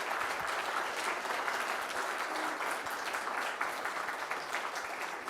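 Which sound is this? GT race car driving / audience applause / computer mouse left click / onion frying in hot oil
audience applause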